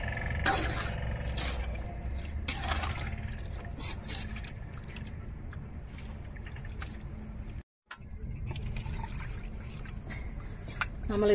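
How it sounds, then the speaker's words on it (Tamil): Water trickles and splashes into a pan of tamarind for a fish curry, with intermittent drips, clinks and pouring sounds over several seconds, broken by one brief silent gap near the end. "நம்மளுக்கு தேவையான அளவு தண்ணி சேர்த்துக்கிற வேண்டியதான் புளிக்கு"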